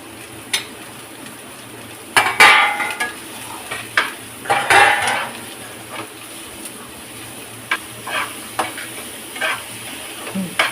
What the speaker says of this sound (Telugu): ఆనియన్స్ బాగా వేగిపోయాయండి. నెక్స్ట్ బీరకాయ వేసుకోవాలి.